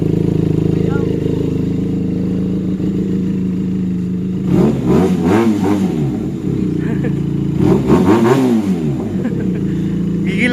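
A motorcycle engine idles with a steady exhaust rumble, then is revved twice in strong bursts that rise and fall, loud and close, with a quieter idle in between.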